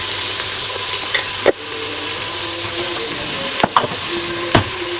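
Onions frying in a pan while being stirred, a constant crackling sizzle with several sharp scrapes and knocks of the spoon against the pan spaced through the stretch.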